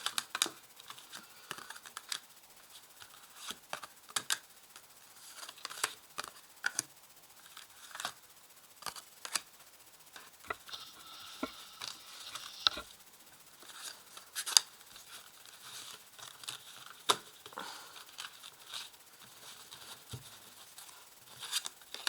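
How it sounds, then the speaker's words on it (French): Tarot cards being laid out one by one on a table, soft close clicks, slaps and brushes of card stock scattered irregularly with no voice. "Je vais mettre les cartes ici, et une de chaque."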